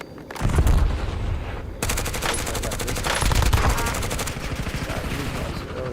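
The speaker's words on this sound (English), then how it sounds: "I'm shooting the other guy." Rapid automatic gunfire in the shooter game Call of Duty Black Ops 6, loud and close, sustained bursts of dense repeated shots with brief gaps, over game background noise.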